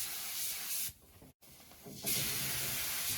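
Spray gun applying GM spatter paint inside the trunk of a 1969 Pontiac, a close, loud hiss that stops briefly midway and then resumes.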